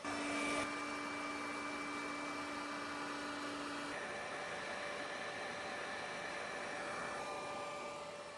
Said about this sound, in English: I am using a 1/8 inch bit that will remove the bulk of the material.